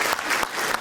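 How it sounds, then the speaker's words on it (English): Brief burst of audience applause at a city address event, dense clapping held steadily for under a second. "Let's give them a round of applause"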